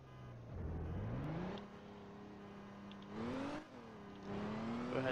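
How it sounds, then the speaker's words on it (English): A car engine in a video game revs and whines as a vehicle is stolen during a roleplay jewelry-robbery scenario. Rising and falling harmonic engine tones come in three bursts with short gaps, fairly close and clear, with no talk over it. "Sounds like a vehicle's getting stolen."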